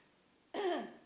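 A single short cough or throat-clear bursts out close by, midway through a church women's conference session, with quiet room tone before and after.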